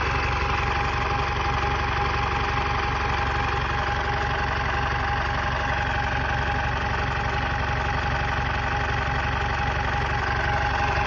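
A 2002 Mahindra MDI jeep engine idles steadily and close by, a continuous low rumbling chug with a faint knocking rhythm, running alone with no talk throughout.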